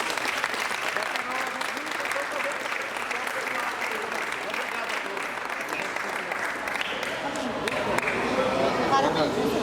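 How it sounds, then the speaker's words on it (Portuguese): A church audience applauds loudly at a pastor's book launch, with sustained dense clapping that swells toward the end, some cheering and voices mixed in. "Uma salva de palmas bem forte para Jesus."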